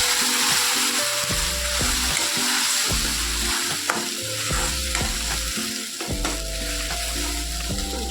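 Masala spice paste for an egg curry fries in a pan over medium heat, a steady close sizzle with repeated scraping stirs of a spoon against the pan, no talking.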